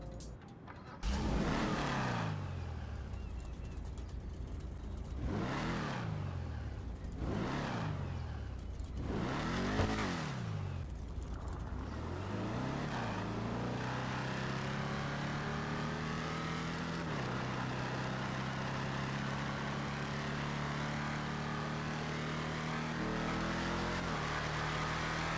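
A very loud car engine in GTA Online revs repeatedly through rising and falling sweeps, then climbs through gears as it accelerates in a long sustained drone, heard alone without talk.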